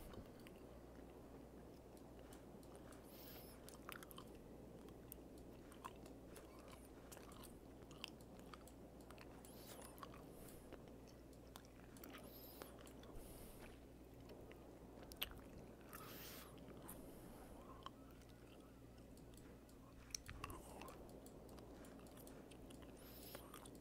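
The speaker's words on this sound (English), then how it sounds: "I'm chewing mastic gum." Someone slowly chews mastic gum close to the mic, producing quiet, irregular wet squishes and small clicks over a low steady hum for a long stretch.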